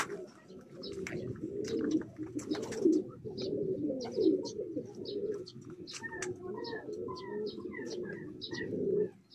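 Racing pigeons coo in a loft, a dense, steady chorus of soft throaty cooing close by, with scattered chirps on top throughout.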